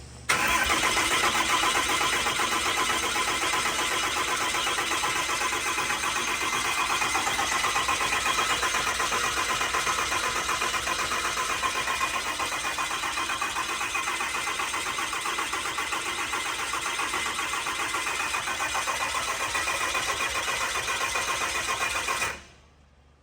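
A 6.4L Cummins common-rail diesel cranks and fires for the first time, a continuous loud, close mechanical drone with a rapid pulsing texture that holds for over twenty seconds before cutting off abruptly, with no talking.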